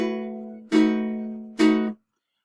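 Three plucked ukulele chords ring out one after another, the last resolving a suspended chord's tension, each sustaining clearly before fading to silence.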